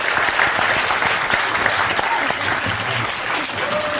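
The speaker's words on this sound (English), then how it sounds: "Everybody give her a huge round of applause." A studio audience claps steadily for a guest guitarist introduced on a variety show, loud dense applause running without a break from start to finish.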